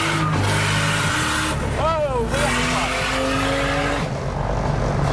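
Car engine blowing up during a drag race in a single-turbo N54 car: loud sustained engine drone with tire squeal and sweeping pitch changes, a voice shouting over it.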